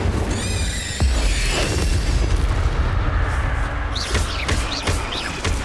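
An Incendio fire spell cast in Hogwarts Legacy inside a cave: a loud whooshing burst of flame with a booming thump, followed by crackling magical sparkle and swirling tones, with no talking.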